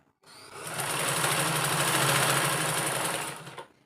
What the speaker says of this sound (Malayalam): ഈ ഒരു റണ്ണറോട് ചേർത്ത് വെച്ച് വീണ്ടും ഒന്ന് പതിച്ച് സ്റ്റിച്ച് ചെയ്ത് കൊടുക്കുക